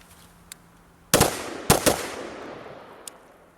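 An AR-15 rifle fires two loud, sharp shots about half a second apart at an outdoor shooting drill, each with a short trailing echo, with faint distant pops before and after and no talking.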